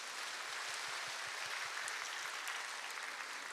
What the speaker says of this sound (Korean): 동산의 가족이 되신 분들에게 마음을 담아 박수로 환영하겠습니다.